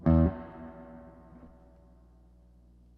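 Fender Vibro King guitar amplifier under repair for a reverb fault, with its dwell control being tested: a loud struck chord that decays into a long, fading spring reverb tail, with no talk.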